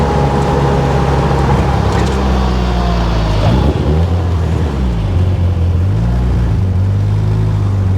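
A 1982 Toyota Corolla fitted with a 4G63 engine and an automatic gearbox drives under load with a loud, steady drone. The pitch rises, then drops sharply as it downshifts by itself, and then climbs again.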